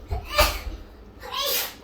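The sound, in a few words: sneeze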